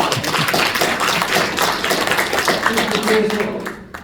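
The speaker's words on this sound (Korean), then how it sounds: "박수 한번 보내주세요" A lecture audience claps steadily, a full dense round of applause that holds for several seconds, then thins and fades at the end.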